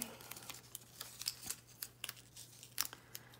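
Backing being peeled from washi tape for a planner layout: a series of quiet, short crinkly tearing bursts in an irregular rhythm, close and faint, with a steady low hum beneath.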